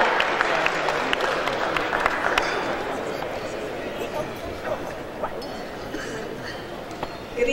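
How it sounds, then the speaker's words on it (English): An audience at a track and field honoree ceremony during a live event at the Georgia Legislature applauds steadily, with moderately loud clapping and crowd noise under scattered voices. "Clap it up."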